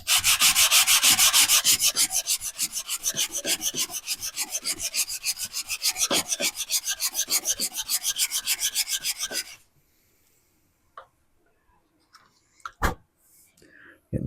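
Brake pad lining is sanded by hand with a piece of sandpaper, giving rapid, rhythmic rasping strokes that are loud and close, then stopping, leaving a few faint knocks and handling sounds.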